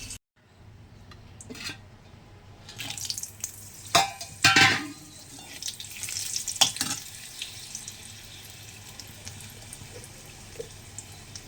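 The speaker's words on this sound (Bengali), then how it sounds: "ততক্ষণে এদিকে আলুটা ভাজতে বসিয়ে দিই।" Potatoes fry in a pan on a home stove, giving a steady close sizzle that swells after a quiet start, broken by stirring scrapes and a few sharp utensil clinks against the pan.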